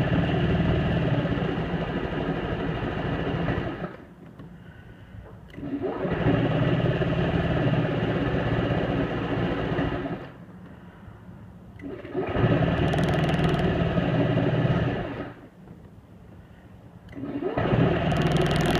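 A Honda Ruckus scooter engine cranks and runs in repeated cycles, three or four steady, buzzing stretches separated by short quiet gaps, close up and with no voices.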